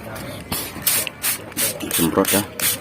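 A hand sprayer mists fungicide onto grape vines in repeated short bursts, close sharp hisses in an uneven rhythm, with someone talking between and over them.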